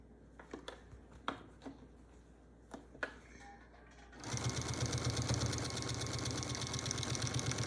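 Domestic sewing machine with a walking foot quilting a quilt: a few light handling clicks, then the motor starts and runs in a steady, rapid, close stitching drone to the end.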